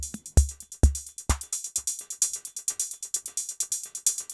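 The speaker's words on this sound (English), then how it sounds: "Here we only have the hi-hats and the cymbal." Hi-hats and cymbal from a Eurorack drum module take over a beat, a fast steady stream of bright metallic ticks and sizzle after a few lingering low kick thumps fade out.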